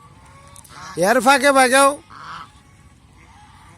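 Domestic geese on a goose farm give one loud, close burst of honking lasting about a second, with faint speech before and after.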